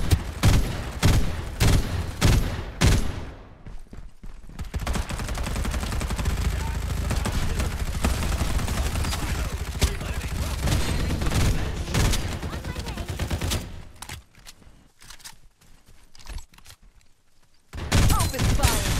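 Rapid gunfire in the video game Farlight 84: sharp, loud separate shots open, followed by a long sustained barrage of automatic fire. It thins to a quieter lull before single loud shots return near the end.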